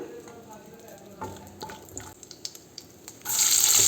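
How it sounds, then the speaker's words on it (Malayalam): Cloves, cinnamon and cardamom dropped into hot coconut oil in a kitchen pan: a few light clicks and taps over a low hiss, then a sudden loud, sustained sizzle erupting near the end. "ഇതിലേക്ക് വെളിച്ചെണ്ണ ഒഴിച്ചു കൊടുത്തിട്ടുണ്ട് ഇനി ഗ്രാമ്പു പട്ട ഇലക്ക ഇട്ട് കൊടുക്കാം"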